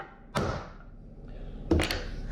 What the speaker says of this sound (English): And just knock it into place.